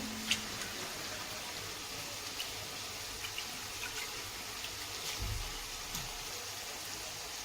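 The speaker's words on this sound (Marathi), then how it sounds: "तरी मी 3 पाण्याने डाळ धुवून घेतलेली आहे" Toor dal being washed in water makes a steady, soft rushing wash of running water with faint splashes, close by and without talk.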